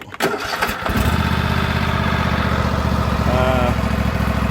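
A Husqvarna LGT2654 lawn tractor engine starts and settles into a loud, close, steady running drone that continues without a break.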